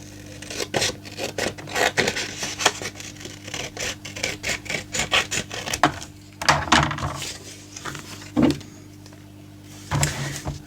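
Scissors cutting through envelope paper at close range: repeated short crisp snips and rasping slides in irregular runs, with brief pauses between cuts, and a few louder snips near the end.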